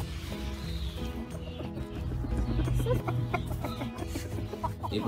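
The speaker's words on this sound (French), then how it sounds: "cette poule qui va pondre" Adult hen about to lay an egg, clucking repeatedly in a quiet run of short, nasal calls close by, with faint farmyard background and no talking.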